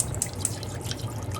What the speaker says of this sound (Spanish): comenzaremos a ponerle agua y a prenderle.